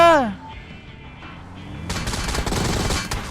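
Video game gunfire erupts into a dense, continuous burst of rapid shots that lasts from midway to the end, loud and close, after a brief descending whistle.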